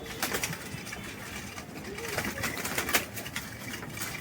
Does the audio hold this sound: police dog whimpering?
no